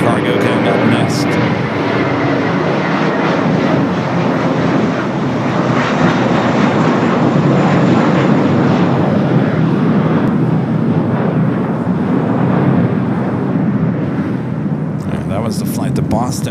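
A Boeing 777 freighter jet takes off at Los Angeles International Airport with a loud, sustained engine roar that holds steady throughout. A spotter talks over it and airport radio chatter can be heard.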